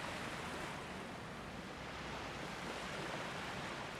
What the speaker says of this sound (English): Wow, the ocean waves, the noise, it's so tranquil.